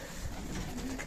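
Racing pigeons arriving at their loft, with soft cooing and bird calls over a steady, noisy background throughout.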